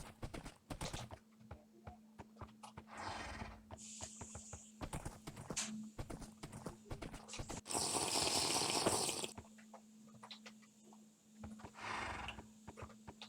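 Horse hooves clip-clopping in the Minecraft video game, a rapid steady patter of hoofbeats with a neigh, a burst of splashing water and faint keyboard clicks, no talk.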